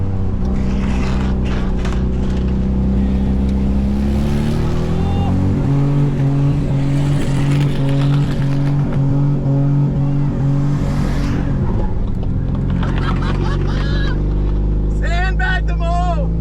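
A Ford AU budget race car engine running badly: a loud, steady drone under race conditions with shifting pitch, accompanied by other cars and a voice talking over it.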